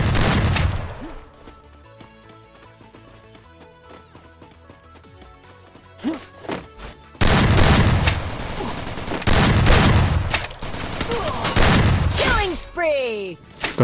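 Rapid bursts of gunfire in a battle royale game, with scattered single shots early, then dense loud volleys and a few rising whistling tones near the end. A voice talks over parts of it.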